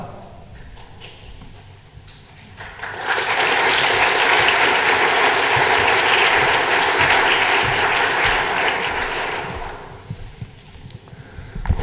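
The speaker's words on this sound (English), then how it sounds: "I think it's great to clap for people before you hear them speak" Loud applause from a church audience welcoming guest speakers swells after a quiet start, holds as a dense, steady roar of clapping for several seconds, then fades into scattered claps and room noise.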